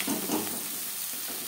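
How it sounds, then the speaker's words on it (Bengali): Tomato mashed into frying spices in a pan while cooking Bengali-style tangra fish curry, giving a soft, steady sizzle with faint stirring and squishing, close and moderately quiet throughout. "মশলার সাথে টমেটো ম্যাশ করে দেবো।"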